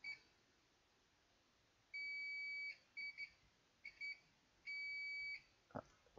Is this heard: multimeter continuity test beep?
yes